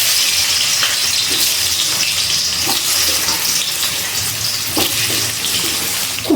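Small cut potato pieces, salted and turmeric-coated, fry in oil left from prawns over a high gas flame, giving a steady close hiss with faint clicks and spatters throughout, no voices.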